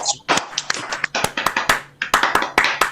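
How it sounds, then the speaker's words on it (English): An audience at an Edmark International launch event performs a rhythmic group clap, a rapid patterned series of sharp, close claps and taps in two bursts, with crowd noise underneath. "one international clap to our mighty creator"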